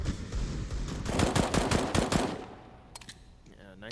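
Rapid automatic gunfire bursts from a competitive tactical shooter match, loud and dense for about a second and a half, then tapering into scattered single shots with game sounds following.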